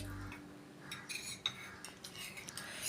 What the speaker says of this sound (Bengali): ঢাকনা খুলে ভালোভাবে একটু নেড়ে চেড়ে নিচ্ছি।